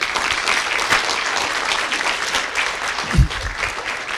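An audience at a Toastmasters meeting claps, a steady, dense patter of many hands that keeps going for several seconds at moderate level.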